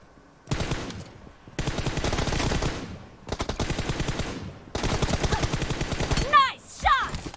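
Sustained automatic gunfire from PUBG Mobile in a competitive 1v1 team deathmatch, arriving as four long dense bursts of rapid shots separated by short pauses, loud and close, followed by brief electronic chirps near the end.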